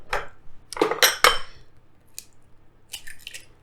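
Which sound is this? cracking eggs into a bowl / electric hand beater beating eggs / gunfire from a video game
cracking eggs into a bowl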